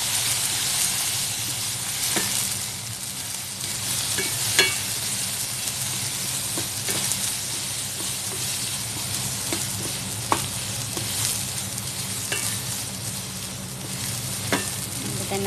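Shrimp fries in a pan with a steady oil sizzle while a spoon stirs through it, leaving a few sharp scrapes and clinks over the constant crackle. Nobody speaks.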